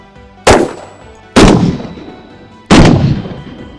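Three loud, close single shots of 7.62x54R 182-grain full metal case match rounds fired at an armor plate, each a sharp blast trailing off into a decaying rumble, spaced roughly a second apart.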